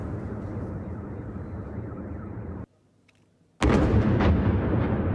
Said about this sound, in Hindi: रॉकेट हमलों के बाद सुनी गई बड़े धमाकों की आवाज